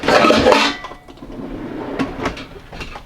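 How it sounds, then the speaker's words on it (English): Pots rattle and clatter loudly as a pull-out cabinet drawer slides open in a renovated toy hauler fifth-wheel RV kitchen, a burst of metal clanking up front followed by quieter knocks and clinks. "This pulls out where you have some pots."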